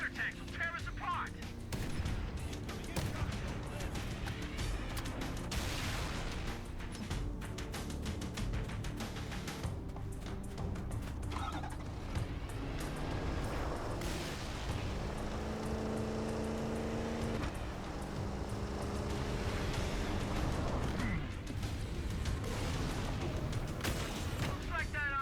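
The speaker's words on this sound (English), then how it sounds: "Those mortar tanks will tear us apart." Mortar tanks firing and explosions in the video game Halo CEV: dense, continuous barrage of booms and blasts with sharp bursts throughout, loud and chaotic, with voices speaking over the battle.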